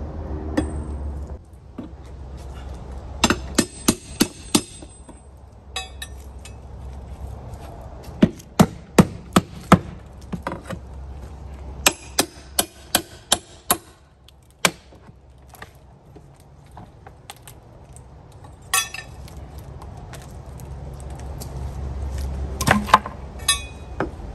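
Rotted trim boards are pried and ripped off a bay window, heard as scattered sharp cracks, knocks and splintering snaps at close range over a low background hum, with short quiet pauses between bursts.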